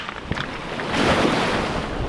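Ocean waves wash and churn steadily against a nearby seawall, a broad continuous surge with wind buffeting the microphone.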